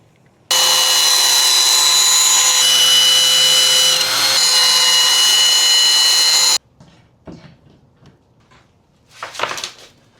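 A new bit in a drill cuts a circle in wood, making a loud, steady whine for about six seconds that stops abruptly, followed by a few quiet handling knocks and a short scrape.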